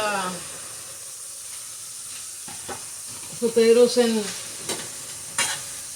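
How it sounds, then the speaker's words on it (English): Diced potatoes and peppers sizzle in a pan with a soft, steady hiss, broken by scraping stirs and clinks of a utensil, with a person speaking briefly near the start and middle. "I'm gonna saute this first"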